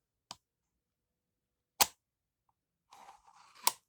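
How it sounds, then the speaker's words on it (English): Bolt handle of a Remington 783 rifle in .30-06 Springfield clicked up, a couple of sharp, close metallic clicks separated by silence, with a brief rattle near the end. "There's your bolt handle. Click it up."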